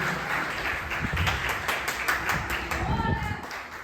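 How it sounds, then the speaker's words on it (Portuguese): A church congregation claps at a live evening worship service, a dense, steady patter of many hands filling the room, with voices mixed in under the applause. "Aplauda Jesus pela vida dele"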